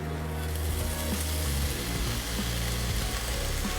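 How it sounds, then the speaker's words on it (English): Bacon frying in hot oil in a pot, a loud dense continuous sizzle with a low rumbling undertone, steady and close throughout. "Right, when the oil is hot enough, put the bacon in."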